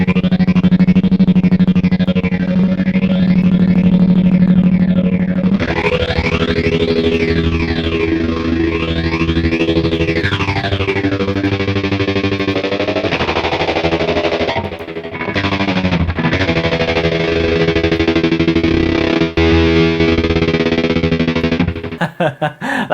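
Electric guitar run through an auto panner centred in the stereo field plus distortion, giving a loud, sustained, gritty tone with sweeping, wavering modulation that swells and dips throughout, with brief cut-outs near the end.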